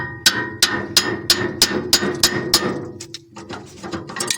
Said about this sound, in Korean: 이를 꽉 조은 다음에 이거를 망치로 쳐주면 됩니다